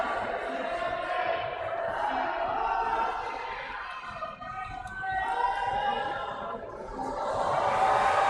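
Spectators at a youth lead climbing competition cheer and shout encouragement to a climber, the crowd noise swelling and dipping in waves, moderately loud and mixed with voices.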